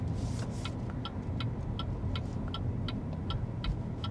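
Steady rhythmic clicking of a BYD Seal's turn signal, evenly spaced ticks over a low road and drive rumble, no voices.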